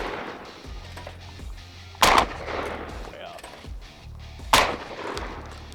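A Stoeger M3500 semi-automatic shotgun fires two sharp, loud blasts a couple of seconds apart outdoors, each followed by a brief echoing tail, with quiet background noise between them.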